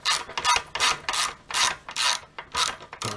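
Ratchet wrench loosening the exhaust silencer screw on a 2022 Honda CBR650R, close-up rhythmic clicking strokes, about eight bursts with short pauses between them.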